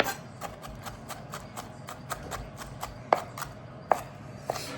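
A knife minces shrimp and shallots into a paste with quick, regular taps on a cutting board, about a dozen close chops and a few sharper, louder strikes.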